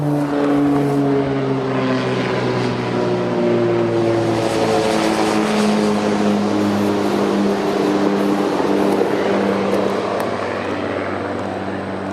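A seaplane drones overhead with a steady, loud engine hum whose pitch slowly slides downward as it passes, continuous throughout.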